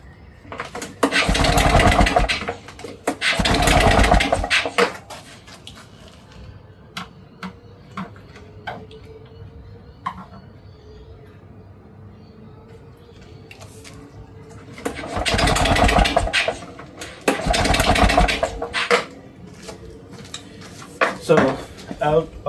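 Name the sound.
Victa Clubsman 2-stroke lawn mower engine being started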